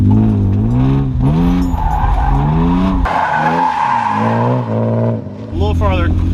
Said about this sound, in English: just do like a couple little donuts to get a feel for